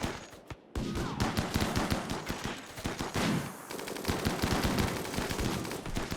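Gunfire in the video game RimWorld, dense rapid shots and crackling bursts overlapping continuously at steady loudness, with no talking.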